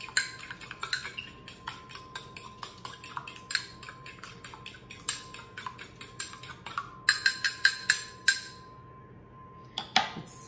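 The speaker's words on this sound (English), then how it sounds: "So you blend in the egg." A fork scrapes and clinks against a bowl as eggs are blended into a meatloaf mix, quick uneven taps and scrapes in bursts, close and fairly quiet, with a short pause near the end.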